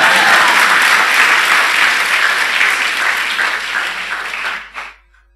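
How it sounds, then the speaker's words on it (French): A church congregation breaks into loud, sustained applause that fills the room, dense clapping holding steady for several seconds before tapering off abruptly at the end. "Nous applaudissons le Seigneur."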